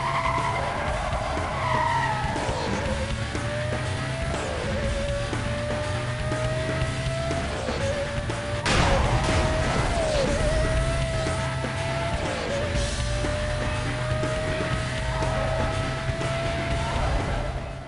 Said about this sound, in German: Der Formel-1-artige Sound von dem Motor